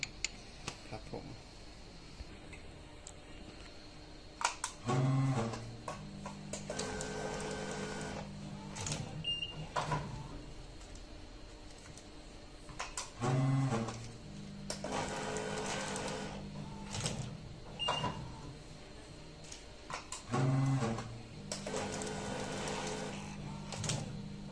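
A packing and sealing machine with a date printer runs through repeated cycles about every eight seconds, each with a thump, a mechanical whir and a rattling clatter over a constant motor hum.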